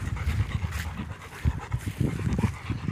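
Puppies pant in quick, busy bursts close by, with occasional soft whimpers mixed into the steady breathy rhythm, and no talking over them.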